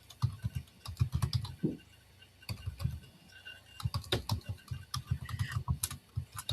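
Fingers tap out quick runs of clicks on a computer keyboard, close and crisp, typing in short bursts separated by brief pauses, with no voices over them.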